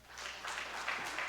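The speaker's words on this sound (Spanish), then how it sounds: "por favor recibámoslo con un fuerte aplauso" Audience applause welcoming a speaker to the stage, a steady moderate wash of clapping across a room without gaps.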